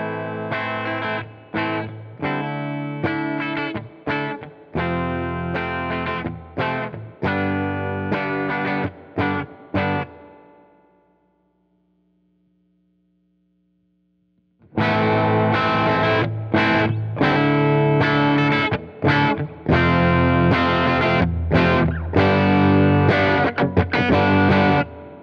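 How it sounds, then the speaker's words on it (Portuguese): Gibson Les Paul humbucker pickups played through a Fender Blues Junior amp, with gain raised in stages from very low toward maximum; loud distorted electric guitar phrases alone, a roughly four-second near-silent gap with a faint hum, then a denser, more saturated second passage. "Vamos dar uma sacada com o som de humbuckers. Eu vou começar com um ganho super baixo, depois eu chego no meio e depois eu chego no máximo."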